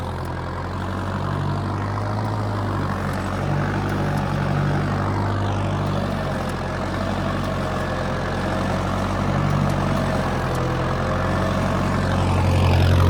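An Arjun 50 hp tractor drags a 13-tine plough through a field, its diesel engine producing a steady, loud low drone with a gradual rise in strength toward the end.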